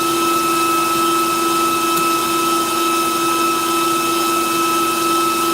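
Stand mixer with a whisk attachment beating Swiss buttercream as butter goes in, a steady loud motor whine and drone that holds unchanged throughout, with no voices.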